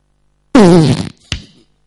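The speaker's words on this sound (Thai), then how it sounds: "ตดผู้ชาย" A male fart sound effect played on a Thai comedy show: one loud, buzzing burst of about half a second, then a short, softer second puff, with no one talking over it.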